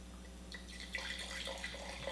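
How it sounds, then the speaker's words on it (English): Wine trickles into a glass as a small tasting pour, a soft, close, bubbling splash over faint background hum, with no voices. "when pouring wine for a taste, you want to do just a little bit"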